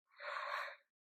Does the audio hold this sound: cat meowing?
no